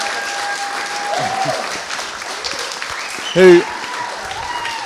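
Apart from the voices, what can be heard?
wedding guests clapping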